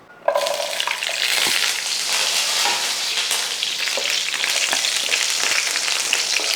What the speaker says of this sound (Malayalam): ഇനി ആ എണ്ണയിലിട്ട് തന്നെ നമുക്കൊരു 10-15 ചെറിയ ഉള്ളി, ആ ഉള്ളിയും കൂടെ ഒന്ന് ചെറുതായിട്ടൊന്ന് വാട്ടിയെടുക്കാം